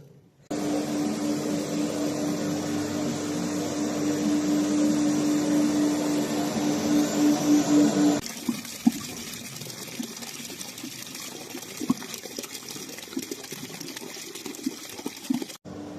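A steady loud rush of water and machine noise runs for about eight seconds while a mosque carpet is washed, then drops to quieter scattered splashes and scrubbing sounds.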